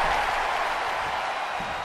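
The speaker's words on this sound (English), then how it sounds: "The sound of this crowd is deafening" A wrestling arena crowd roars and applauds in a dense, loud, continuous wash of cheering that fills the whole space.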